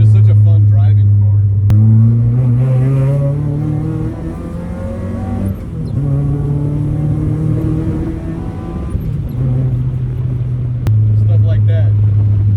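A Mazda Miata 1.6 drift car without air conditioning, driven on a rough street, its engine droning loud and close inside the cabin and rising and falling through several gear changes, with short clicks where the gears shift.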